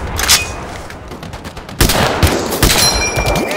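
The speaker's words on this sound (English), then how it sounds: "He's just methodically emptying that magazine." Machine-gun fire in a trench-warfare video game sounds in loud, cracking bursts of rapid shots, with a heavier burst midway followed by continued gunfire and distant battle noise.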